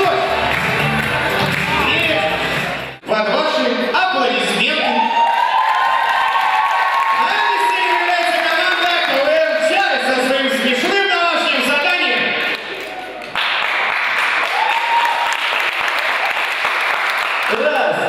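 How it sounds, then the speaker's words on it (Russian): An audience at a KVN comedy league quarterfinal in Novosibirsk applauds loudly and steadily, with cheering and a host's voice over the clapping, a brief dip partway through before it swells again. "Под ваши аплодисменты."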